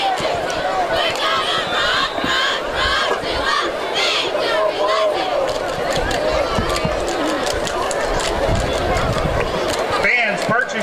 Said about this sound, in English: You can hear the cheerleaders down below cheering their hearts out